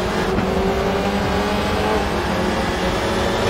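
Audi RS3 touring cars racing side by side at Portimao in the WTCR 2018 game, a steady loud engine roar with constant high revving and gritty low rumble throughout, no pauses.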